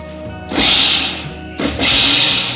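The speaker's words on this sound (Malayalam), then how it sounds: "ഇത് നമുക്ക് ചെറുതായിട്ടൊന്ന് ചതച്ചെടുക്കാം മിക്സിക്കകത്ത്" A mixer grinder whirs loudly in two short bursts while coarsely crushing a spice paste, starting and stopping abruptly with a high motor whine, a brief pause between them.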